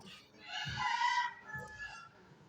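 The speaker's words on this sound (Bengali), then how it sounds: "মুরগির কথা শুনতে পারবেন" Chickens and a rooster kept beside a home cluck and call close by in short bursts, with a brief crowing-like phrase mid-clip over low background noise; no one speaks.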